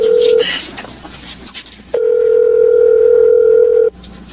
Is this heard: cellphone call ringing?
yes